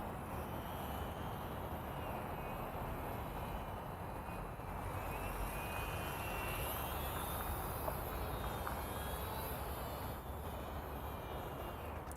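An E-Flite Stearman PT-17 RC biplane on its first flight gives a steady, distant electric motor drone that holds over constant broadband outdoor noise, fairly faint and even throughout.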